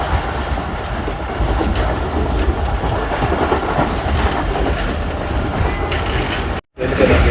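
The Pakistan Express 46 Down runs on rails near Gujar Khan on the Rawalpindi route, giving a loud, steady rumble with rhythmic clickety-clack from the wheels. A brief dropout comes near the end.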